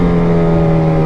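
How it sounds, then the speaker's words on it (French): Yamaha FZ8 motorcycle exhaust held at a steady idle or light rev, a close, loud, even engine drone with a strong low hum and no speech. "j'espère que ça va être le rendu de l'échappement"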